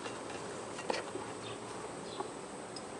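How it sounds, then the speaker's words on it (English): Honey bees hum steadily inside an open hive frame box, a dense close drone with a few brief louder buzzes as individual bees pass near. "I'm gonna push these bees down"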